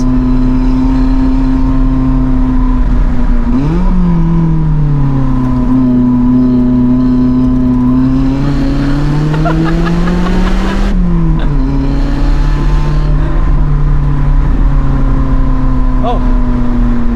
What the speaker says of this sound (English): I think the exhaust sound should be a nice added bonus